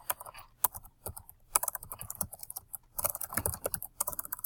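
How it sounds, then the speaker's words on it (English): Fingers tapping a computer keyboard in irregular bursts of quick clicks, close and fairly clear, with short pauses between runs of keystrokes and no talking. "Okay, I can type."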